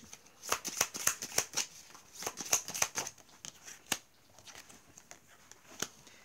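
Tarot cards riffled and flicked in quick bursts of crisp, close snaps and slaps, followed by a few sparser single card sounds as cards are drawn, with no talking.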